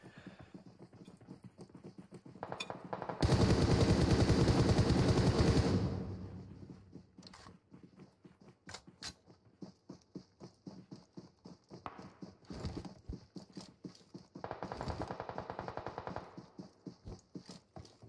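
Rapid bursts of automatic gunfire from a PUBG Mobile match, a loud dense volley of shots followed by scattered cracks and a second shorter burst, with game sounds between.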